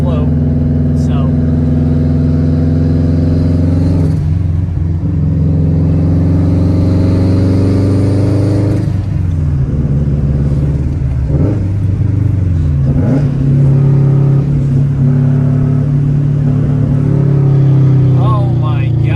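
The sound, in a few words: Subaru WRX with Tomei exhaust revving, heard from inside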